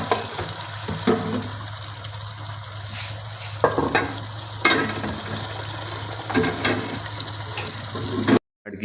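Paste of tomato, ginger, green chili and onion frying in hot oil in a pot, a steady close sizzle and crackle with occasional stirring clatter, no voices.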